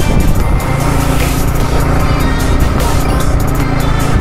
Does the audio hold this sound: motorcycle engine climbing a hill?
yes